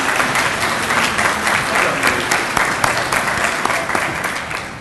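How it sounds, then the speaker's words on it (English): Loud, sustained applause fills the hall at an honor society induction ceremony, a continuous dense clapping with a few sharper individual claps standing out. "Let's give her another round of applause."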